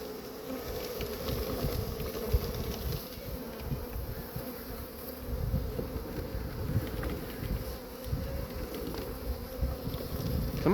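A honeybee swarm clustered on a tree in spring gives a steady, dense buzzing hum from many bees close by, continuous throughout, with gusty wind noise mixed in and no talking.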